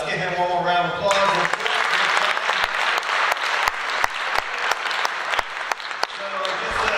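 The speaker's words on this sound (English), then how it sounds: "Let's give him one more round of applause." Audience applause after a talk at an event, a dense, steady round of clapping from a sizable crowd filling the whole stretch, with some voices briefly audible at the start.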